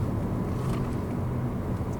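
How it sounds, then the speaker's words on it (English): A car's engine rumbles steadily at a road junction, a low continuous drone heard from inside a vehicle during a driving lesson, with no speech. "The car came up a little bit fast, didn't it?"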